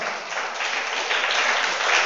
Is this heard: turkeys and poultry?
no